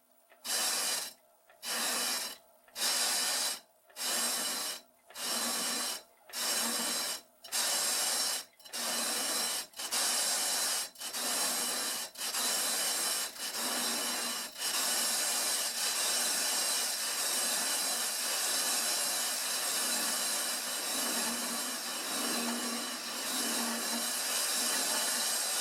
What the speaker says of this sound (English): I'm running a lathe at about 50 RPM